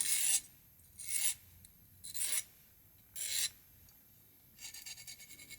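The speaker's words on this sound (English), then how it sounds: "it's basically just a sharpening stone, but it has these grooves, so you can just fit whatever size wire you need into it" Wire ear wires filed back and forth in the grooves of a sharpening stone, four short gritty rasping strokes in a steady rhythm followed by a softer scraping, close and quiet with no talk.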